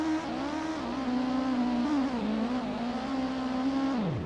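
A race car in the Gran Turismo video game sustains a steady, loud engine drone through a drift, its pitch wavering with oversteer and dropping sharply at the end, with no voices present.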